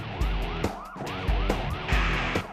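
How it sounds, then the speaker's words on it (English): A police siren wails in a fast, repeating up-and-down pattern, close and steady, with some road and engine noise underneath. "Police sirens and flashing lights are having little effect."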